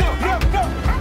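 A dog in the trailer for the film Dog (2022) gives a quick, loud, close bark with a yipping edge, lasting about a second, with a voice mixed in.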